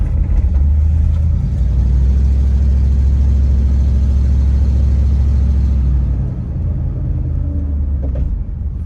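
Car engine during a slow test drive around the block, a loud, steady low rumble close to the microphone that eases off slightly toward the end as the car slows to stop; no talking.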